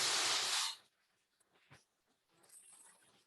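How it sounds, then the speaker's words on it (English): Orange chicken sauce, a sweet and sour glaze, hits a hot pan with a loud broadband sizzling burst for under a second, then fades to quiet scattered crackles and faint sputtering. "We call that the Thrive sizzle."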